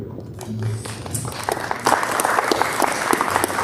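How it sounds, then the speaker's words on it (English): Audience applause at a city's State of the City address, a steady broadband clatter of many hands that swells after the first second and runs to the end, with faint voices underneath. "Hold your applause thing."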